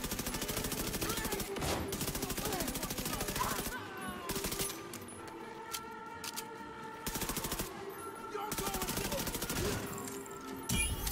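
Rapid automatic gunfire in The Division 2, sustained machine-gun bursts rattling almost continuously with brief gaps, fairly loud and close.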